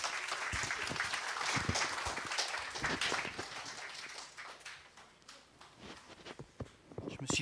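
Church congregation at a Sunday service applauds a group of boys, dense clapping that gradually thins and becomes more scattered toward the end.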